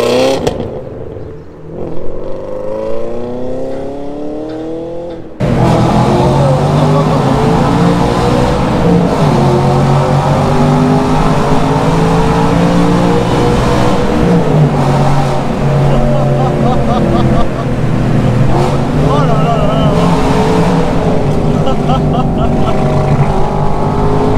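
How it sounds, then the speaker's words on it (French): A loud Audi RS4 B7 engine roars continuously in a tunnel, its pitch rising and falling through gear changes, with a strong echoing rumble. "la RS4 B7 honnêtement la sonorité est juste dingue"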